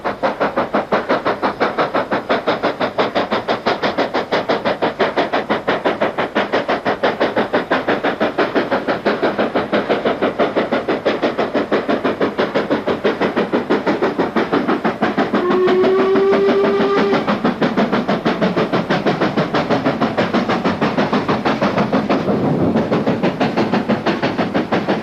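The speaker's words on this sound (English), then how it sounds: "completing the spectacle of steam under full power on steep grades." A steam locomotive works hard at full power up a steep grade from Gromont, driving through three pairs of six-foot wheels and hauling a rake of 1950s British Rail liveried coaches. The exhaust chuffs fast and rhythmically throughout, and a whistle briefly sounds midway.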